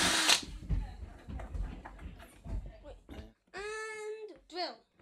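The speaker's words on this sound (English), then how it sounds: "And drill." A power drill boring a hole while setting up an aquarium water-change system, heard as two short whining bursts near the end of the clip after a stretch of clattering and handling noise; people talk nearby.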